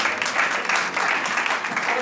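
A church congregation claps and cheers to acclaim the Lord during a sermon, loud continuous applause with voices rising over and through it.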